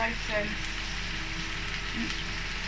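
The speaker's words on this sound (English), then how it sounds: "you can hear the meat sizzling. It's all sizzling." Steady broadband sizzling of meat frying in a pan, continuous and fairly loud, with a few faint clinks early on.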